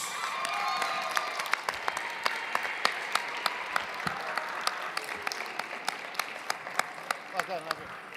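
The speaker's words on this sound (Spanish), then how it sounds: "pasa el señor con un fuerte aplauso, Julio Ceballos" An audience at a singing audition in a gymnasium applauds, with clapping under a voice and sharp individual claps ringing out repeatedly over the crowd.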